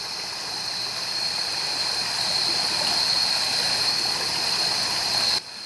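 Water in Frog Creek rushes steadily at night, a loud, continuous broadband roar with a faint high whine layered over it, unbroken until it drops abruptly at the very end.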